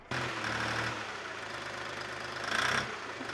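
A tractor engine runs loud and close, the driver revving it so it rises and swells near the end of the stretch, with a rough, knocking idle between.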